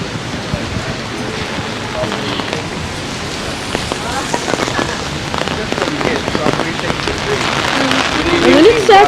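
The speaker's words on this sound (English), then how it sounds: "And when it's actually kind of raining." Rain falls on a San Francisco street, a steady hiss of drops and spatter across the surface with faint city sounds mixed in and growing slightly louder toward the end.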